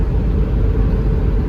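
Steady low rumble of a 1997 Ford Expedition Eddie Bauer Edition with a V8 engine and all-terrain tires cruising on a highway at night, a loud, constant road and engine drone with no variation.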